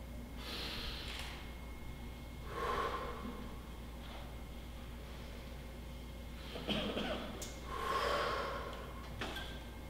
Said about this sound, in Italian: Segui il ritmo del mio respiro.